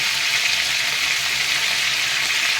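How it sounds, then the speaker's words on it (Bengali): Potatoes frying with turmeric in hot oil for Kashmiri dum aloo, a dense, even sizzle heard close and continuous throughout, with no voices. "এবার একটু হালকা নাড়াচাড়া করে নেব কিছুক্ষণ আলুগুলোকে ভেজে নেব"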